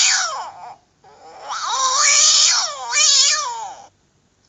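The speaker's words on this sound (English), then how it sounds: "Cat." A domestic cat meows twice in a row, each call a long, wavering, drawn-out cry, close and fairly loud, with a short pause between them and no talk.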